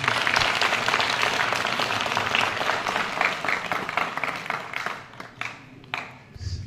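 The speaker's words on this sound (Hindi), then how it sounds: "मैं चाहूंगा उसके लिए जोरदार तालियां।" Loud applause from an audience honouring a Maha Vir Chakra recipient fills the space, dense and steady, then thins into scattered claps near the end.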